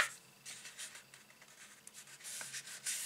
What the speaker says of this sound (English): So we'll unfold it and then fold this corner over